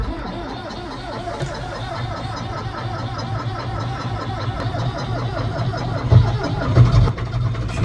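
A cold old tractor engine, likely a Ford, cranks and catches on a farm in winter, with a rough, continuous low-pitched chug that grows louder near the end. A voice is briefly heard.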